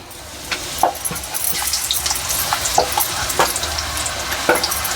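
Savari snacks for the Bonalu festival deep frying in hot oil, a dense continuous bubbling sizzle close by, with occasional clinks and splashes as pieces are turned, and no talk.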